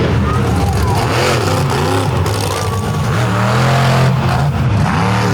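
A big-block truck with a 557 cubic inch KB Olds engine, weighing around 13,500 pounds, roars loudly through a mud race, its engine revving hard and steady throughout under a constant wall of noise.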